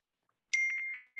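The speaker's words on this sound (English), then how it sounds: "Excuse my phone, that's my daughter texting me." A phone text message notification, a short bright chime of a few quick tones, clear and fairly quiet against silence.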